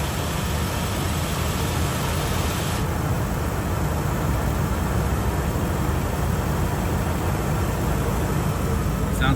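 A 2001 Ford F350 box truck's 5.4 liter V8 running, a steady low rumble with constant broadband noise, close and unchanging for several seconds.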